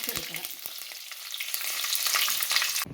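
Curry leaves hit hot oil after the mustard seeds have popped, bursting into a loud, crackling sizzle that swells and holds steady before stopping abruptly, with a few sharp spits early on and no talking.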